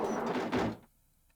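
A classroom door in Persona 4 Arena Ultimax opens with a brief rushing swish and a soft thud, close and fairly loud, then cuts to near silence.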